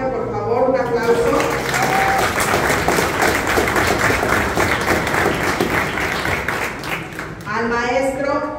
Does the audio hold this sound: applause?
yes